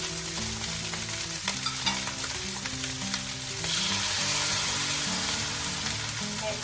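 Egg fried rice sizzles steadily in a hot pan while being stirred, the frying loud and continuous with scraping stir sounds and no talking.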